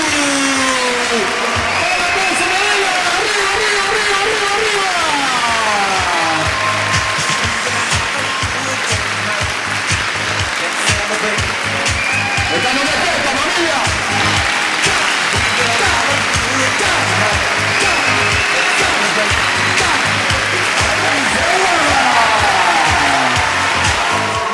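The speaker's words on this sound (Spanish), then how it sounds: "Y lo recibimos con un fuerte aplauso a Natalie y a Gustavo" A wedding reception crowd applauds steadily as the newlyweds are welcomed, a dense continuous wash of clapping with music and voices mixed underneath.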